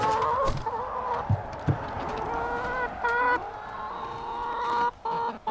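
Several chickens cluck and squawk close by inside a coop, a busy overlapping chorus of calls with a few sharper cries rising above it.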